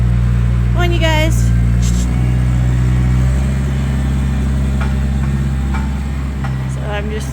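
A vehicle drives into a sheep barn on a farm to deliver straw, its engine a steady low drone under close talking, with sheep bleating now and then.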